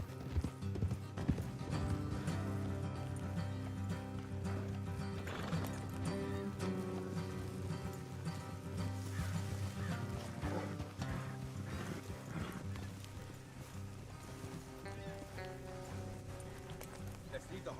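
Horse hooves clip-clop steadily in Red Dead Redemption 2 over a bed of game music and ambient noise, the rhythmic hoofbeats continuing throughout.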